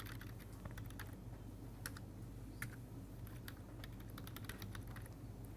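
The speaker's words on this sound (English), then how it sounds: "Nevertheless, I will go ahead and type it" Keys on a computer keyboard clatter in irregular bursts of quick taps, moderately close over a steady low hum, with no talking.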